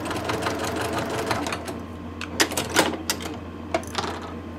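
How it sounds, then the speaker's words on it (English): Sewing machine stitching a folded fabric strip for a phone case strap, a rapid, steady mechanical whir of the needle with a few louder clacks near the end, no speech. "you want to sew 1/8 inch from the edge on both sides"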